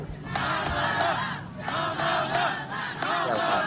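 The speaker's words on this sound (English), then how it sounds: "Why are you guys cheering?" A crowd cheers and shouts in repeated loud surges, with brief dips between bursts of massed voices.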